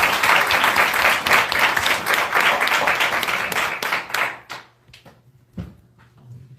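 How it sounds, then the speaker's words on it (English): An audience at Howard University breaks into loud, dense applause welcoming Ms. Kim Poole to the stage, sustained for several seconds before thinning into scattered claps and fading out near the end. "please give a round of applause to Ms."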